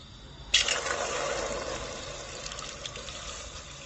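Fish sauce poured from a container into a pot, a soft liquid splash beginning abruptly and continuing as a steady close trickle for a few seconds, with no voices.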